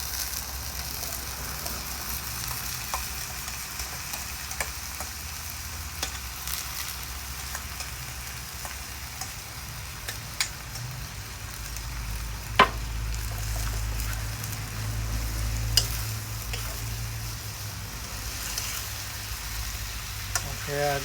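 Pak choi cooks over medium heat in a pot, a steady low sizzle and hiss running throughout with occasional clinks and scrapes from stirring, close and moderately loud.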